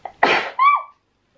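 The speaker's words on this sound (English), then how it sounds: "I think I'm going to sneeze" A single close sneeze from a woman: a short sharp intake, then an explosive burst followed by a voiced tail, loud and alone in quiet surroundings.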